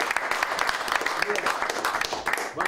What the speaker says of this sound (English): Let's give Minister Rodney a applause.